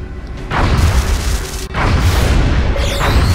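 Interceptor cannon fire and an exploding UFO from the video game XCOM: Enemy Unknown, a loud booming blast followed by a rumbling burst and a second heavy boom, with a brief whistling tone near the end.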